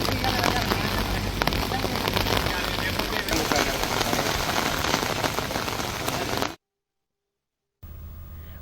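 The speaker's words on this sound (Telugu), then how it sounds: "ఇది కరీంనగర్ జిల్లాలో ప్రస్తుతం వర్షాలు కొనసాగుతున్నటువంటి పరిస్థితి" Heavy monsoon rain in Karimnagar district pours steadily in a dense, loud hiss of drops on surfaces, cutting to silence briefly before resuming near the end.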